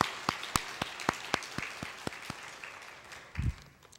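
A church congregation claps in applause, a sparse run of distinct, fairly quiet hand claps that slows and fades out.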